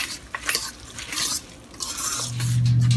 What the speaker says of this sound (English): I'm going to add some flour. And mix the flour